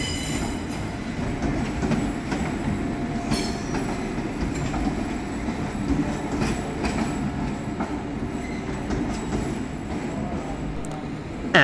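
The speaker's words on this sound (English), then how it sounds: "we see the arrival of 350257, terminating with a West Midlands Railway service from Rugeley Trent Valley" A West Midlands Railway train, unit 350257, pulls into Birmingham New Street station on a service from Rugeley Trent Valley, its steady rumble and wheel noise filling the platform at a constant loudness with faint squeals.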